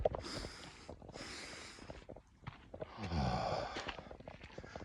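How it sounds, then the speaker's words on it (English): Quick, breathy sniffs and snorting inhalations in a quiet room, several short bursts in succession with soft exhales between, close and fairly faint. "Sometimes a double sniff can help calm your body."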